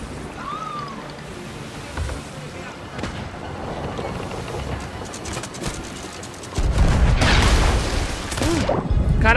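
In the Sea of Thieves pirate game, a cannon shot slams into a ship with a sudden loud boom that rolls into a heavy, sustained crash and wash of water. Quieter sea ambience and some voices come before it.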